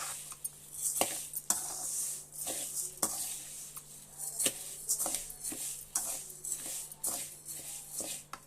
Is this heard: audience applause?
no